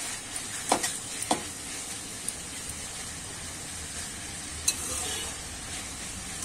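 Food being turned and stirred as it cooks down in a pan, a steady hissing sizzle with a few sharp spoon clicks against the pan, close by and with no talking.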